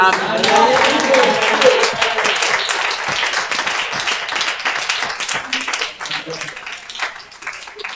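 An audience at a church-style pyjama party event claps and cheers, a dense burst of applause that is loud at first and gradually thins out over several seconds.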